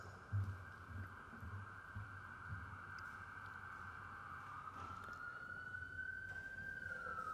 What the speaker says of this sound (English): especially when an ambulance passes